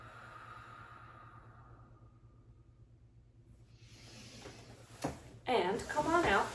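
A slow, deep breath is taken during child's pose in a Pilates mat session. It starts with a soft, quiet inhale after near silence, then a fuller, breathy exhale close to the mic.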